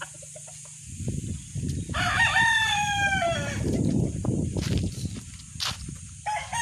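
A Boston Roundhead gamefowl rooster crows once, loud and close, amid a steady chorus of clucking and rustling from other farmyard birds, with insect or bird noise high in the background.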